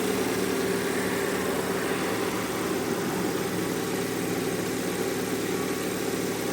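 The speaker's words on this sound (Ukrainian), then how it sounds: "Ось так працює двигун," A VAZ car engine idles steadily after cylinder head repair, a continuous low rumbling hum with a slight vibration, close by and unchanging throughout.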